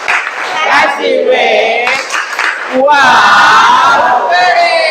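A standing group in a classroom session clapping in rhythm and shouting a chant together, loud, close and energetic, with bursts of unison voices between the claps.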